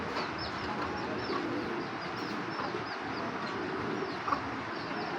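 Giribaz pigeons of the original Parla line coo together in a loft, a dense continuous chorus of low calls and occasional chirps with no talking over it.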